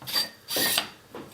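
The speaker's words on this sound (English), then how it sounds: "the first thing I'm going to do is unscrew the barrel" Barrel of a Tippmann paintball marker being unscrewed by hand, giving three short rasping, scraping thread turns close to the microphone, with quiet gaps between them.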